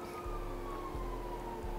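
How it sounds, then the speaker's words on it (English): A police siren in the video game GTA 5 holds a steady, piercing tone over a low engine rumble. It is continuous, with no talking. "All I hear is fucking sirens"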